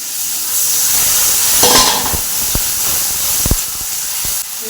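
Onion paste for Bengali fish kalia sizzles steadily in a hot pan, a loud, close hiss broken by a few sharp clicks of stirring.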